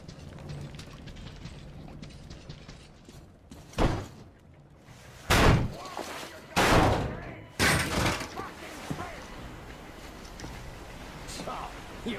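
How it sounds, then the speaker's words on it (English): A door being forced open and slamming in the video game Metro Exodus: several heavy thuds and bangs spaced over a few seconds, loud against a noisy rumbling background. "The door's giving. Let's give it a shot, Artyom."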